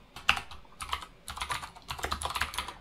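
Keys clatter on a computer keyboard during coding work in a React project, a steady run of quick, close taps and short bursts with brief pauses, no voices.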